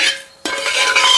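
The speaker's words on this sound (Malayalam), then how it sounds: "എന്നിട്ട് ഇങ്ങനെ ഇളക്കിക്കൊണ്ടിരിക്കണം" Chammanthi podi, a Kerala coconut chutney powder, being stirred in a hot pan: a soft scraping stir, a brief quiet gap, then a sudden louder run of gritty scraping and rustling close up, with no talking.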